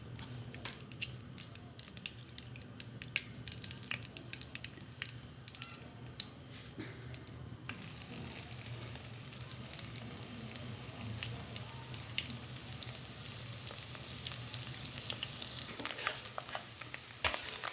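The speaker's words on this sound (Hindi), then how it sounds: "साग को तड़का लगाने के लिए मैं इसके अंदर देसी घी डाल दिया है। अब मैं इसके अंदर लहसुन अदरक का पेस्ट है वो मैं" Garlic and ginger paste sizzles in desi ghee for a saag tadka, a steady crackling fry with scattered pops and occasional stirring scrapes, close and continuous throughout with no talking.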